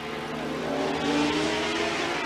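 A GP500 racing motorcycle at the 1988 French Grand Prix at Paul Ricard accelerates hard out of a slow corner, a loud, dense engine howl climbing steadily in pitch over a couple of seconds.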